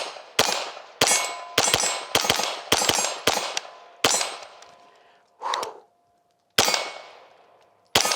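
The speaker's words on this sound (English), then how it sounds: "Just ripping headshots at 10 yards." Taurus RPC pistol fired at an outdoor range, a string of loud, sharp shots with ringing tails in a steady rhythm, followed by a brief pause, a clank and two more shots.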